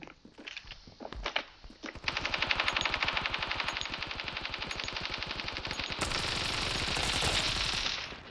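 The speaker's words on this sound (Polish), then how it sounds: "Teraz ogólnie to strzały słychać" Gunfire in the mobile shooter Standoff 2: a few scattered taps and footsteps, then long, rapid bursts of automatic fire that rattle continuously and loudly to the end, with no talk.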